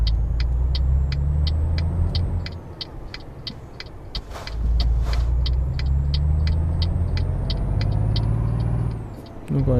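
Truck passing by in the driving game Euro Truck Simulator 2, a steady loud engine rumble that dips briefly and returns, with regular electronic ticking throughout.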